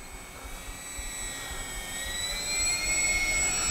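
A whining electric motor drone from an Avios Albatross V2 RC flying boat making a very slow pass close to stall speed, steady and gradually growing louder as it nears, with no talking.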